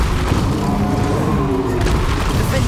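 Incendio fire spell cast during combat in Hogwarts Legacy, a loud booming burst with dense rumbling effects and steady game noise throughout, a faint voice briefly under it.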